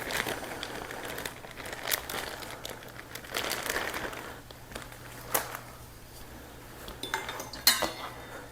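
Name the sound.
cutting up bacon with a knife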